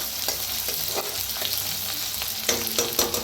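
Hand-pounded spices crackle and hiss as they dry-roast in a pan, with close, repeated stirring scrapes and taps over a steady loud sizzle.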